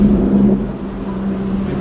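McLaren 720S sports car at a track day at Magny-Cours, a loud, close engine drone holding a fairly steady pitch for a couple of seconds, with no speech.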